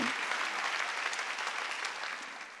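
A Korean church congregation claps during a Sunday worship service, a steady wash of many hands at moderate loudness that fades slightly toward the end.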